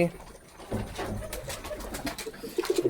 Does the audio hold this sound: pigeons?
yes